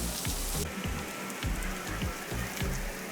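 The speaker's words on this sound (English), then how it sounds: "Then it started raining like crazy." Heavy rain pours down in Shanghai in a dense, steady hiss, with drops pattering loudly on nearby surfaces throughout.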